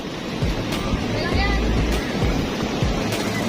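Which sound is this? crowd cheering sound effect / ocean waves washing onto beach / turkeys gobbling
ocean waves washing onto beach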